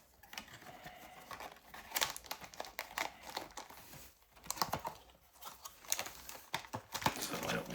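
Gundam TCG Steel Requiem booster box packaging being unboxed by gloved hands, with close crinkling, tearing and sharp rustling of wrapping in irregular bursts, loudest near the end.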